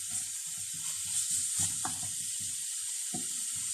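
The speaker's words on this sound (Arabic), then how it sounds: "دونك تنحركوا الخليط ديالنا مزيان" A cigar filling mixture sizzles in a pan over low heat while being stirred, giving soft rhythmic scraping and clicking strokes over a steady high hiss of frying.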